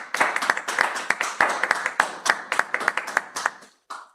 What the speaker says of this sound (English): A round of applause to you.